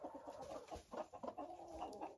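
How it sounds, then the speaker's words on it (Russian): Laying hens clucking in a henhouse, a faint, continuous run of soft, close clucks and murmurs in an irregular rhythm, with no voices. "И там сидит курица."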